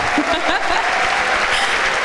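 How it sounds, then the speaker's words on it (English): An audience claps for footballer Alvaro Morata at the FIFA Interactive World Cup 2017 final, a dense, steady wash of applause that fills the hall throughout without a break. "clap your hands for him, Alvaro Morata"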